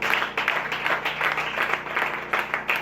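A church congregation applauding in acclaim, a steady, dense wash of clapping from many hands that continues without a break.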